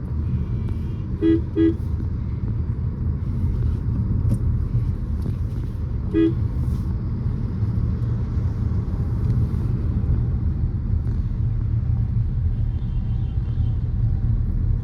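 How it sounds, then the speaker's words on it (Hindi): A car driving in ordinary city traffic, heard from inside: a steady low engine and road rumble throughout, with a few short horn toots from nearby vehicles and no talking. "नॉर्मल ट्रैफिक में भी कैसे मैं गाड़ी चला रहा हूँ और कितना स्पीड में मैं चला रहा हूँ"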